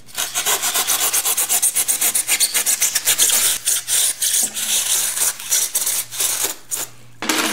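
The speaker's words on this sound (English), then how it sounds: "I'm gonna use a hacksaw blade to cut this out with" Hacksaw blade rasping back and forth in quick, steady strokes while cutting out a railroad spike shape, loud and close with brief pauses between bursts.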